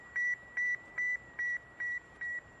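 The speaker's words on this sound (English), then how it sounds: "Sputnik 1 reminded the world what it was with its signature beep." Sputnik 1 satellite radio signal: a steady train of seven evenly spaced, clean tonal beeps at a regular pulsing rhythm over a faint hiss, with no voices.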